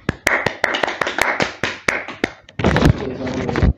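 Scattered individual hand claps from a small classroom group, distinct close sharp claps in an uneven rhythm, then a denser burst of clapping near the end.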